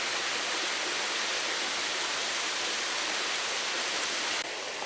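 Small trickling waterfall near the Yoshino River area in Tokushima makes a continuous, even rush of falling water, fairly close and unbroken, without any speech.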